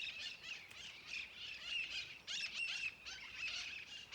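Green Amazonian parrots squawk and chatter repeatedly in a migrating flock, harsh calls overlapping in near-continuous bursts at moderate distance, with no talk.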